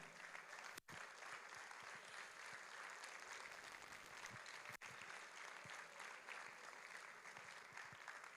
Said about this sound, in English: Please let us clap for all our lecturers in EDM.